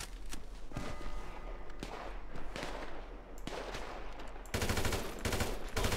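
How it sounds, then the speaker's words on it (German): Repeated gunshots in the video game GTA V: sharp, loud cracks in irregular bursts, ending in a dense rapid volley of fire with almost no talk. "Gut, kein Bier, sondern lieber ein Schuss ins Gesicht."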